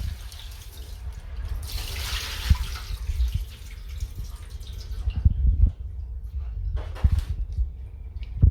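Tap water runs steadily into a sink while lobster and prawns are rinsed for a curry, with splashing and a few knocks of shellfish against the basin, close and continuous throughout.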